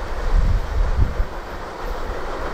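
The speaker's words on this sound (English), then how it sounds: "That is a mixed manifest freight train with all different kinds of stuff on it" Loud, close rumble of a CSX mixed manifest freight train, Q367, rolling past, low heavy drone with rhythmic thumps of wheels over track joints, no voices.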